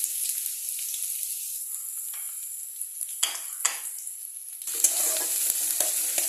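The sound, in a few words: chopped onion frying in a pan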